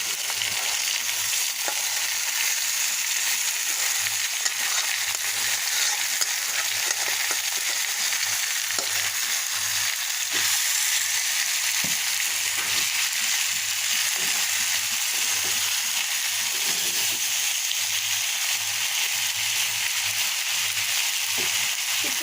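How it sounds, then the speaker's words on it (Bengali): Boiled taro pieces fry in a pan with browned onion, garlic and radhuni seeds, giving a loud, steady sizzle throughout, with light scrapes and stirring movements and a faint low hum underneath. "এখন একটা প্যানে পেঁয়াজ রসুন আর একটু রাঁধুনি দিয়ে ফোড়ন দিয়ে দেবো বাদামি করে ভেজে নিয়েছি আর এই যে সিদ্ধ করা কচুগুলো দিয়ে দিলাম"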